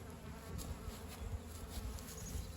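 Honeybees buzzing during a beekeeping class hive inspection, a dense steady hum of many insects close by, with faint rustling and occasional louder passes near the listener.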